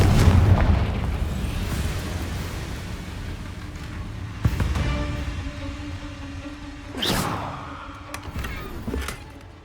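Confringo explosive spell blasts in Hogwarts Legacy go off as several sharp booming bursts, each followed by a decaying rumble, over a steady game ambience.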